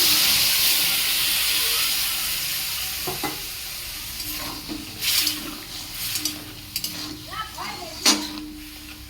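Tamarind water poured into a hot pan of tangy crab curry, a loud, steady hiss that fades slowly and gives way to quieter bubbling and spoon scrapes, with talking in the background.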